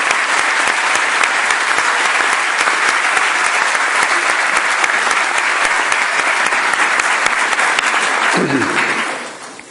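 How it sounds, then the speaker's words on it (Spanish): Loud, sustained applause from a large lecture audience welcoming a speaker, steady clapping for several seconds before it fades out at the end. "Recibamos con un fuerte aplauso"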